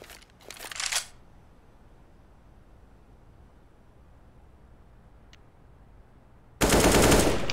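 Automatic gunfire in CS:GO on the Mirage map, a sharp burst of rapid shots at the start, a long quiet stretch with a faint click, then a loud sustained burst at the end, no talk.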